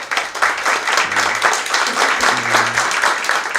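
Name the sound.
applause for the president and council members at press conference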